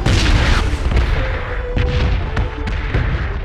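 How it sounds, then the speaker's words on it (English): A bomb blasting into a building in a video game: a loud, sustained rumbling boom with debris-like crackle and scattered thumps throughout. "Pretty sure a bomb hit the building."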